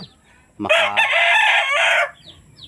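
A rooster crows once, loud and close, a long drawn-out call lasting about a second and a half, with quieter clucking before and after.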